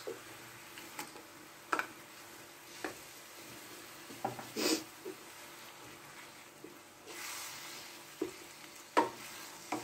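Minced chicken kofta stirred into well-softened onions and herbs in a pan, with low frying sizzle under intermittent scraping stir strokes and occasional clinks of the utensil against the pan.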